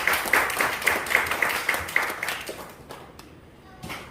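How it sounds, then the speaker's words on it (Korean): A church congregation claps briefly at a Sunday worship service, a rhythmic burst of steady hand claps that fades out after a few seconds, with a voice speaking over it. "오늘은 미리 와서 우리 이재선 박수 한번 칩시다"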